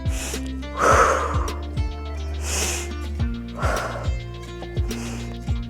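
During a Pilates mat exercise, deliberate breaths come about every second and a half, each a breathy whoosh of inhaling or exhaling, heard close over steady background music.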